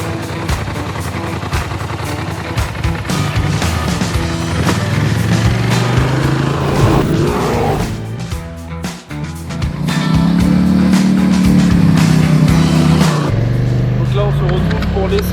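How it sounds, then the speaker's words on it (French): Polaris Sportsman 1000 XP S ATV driven on a test ride, its loud engine droning and rising in pitch as it accelerates, with a brief dip near the middle before revving up again, continuous and close throughout. "on va aller tester le véhicule à la conduite pour avoir les premiers ressentis"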